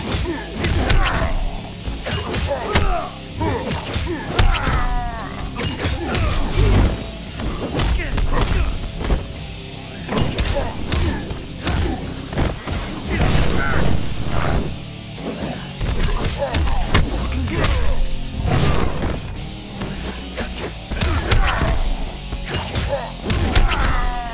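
Mortal Kombat X fight hits land in rapid, irregular bursts of heavy thuds, smacks and crashes, loud and close, mixed with grunts and shouts from the fighters throughout the round.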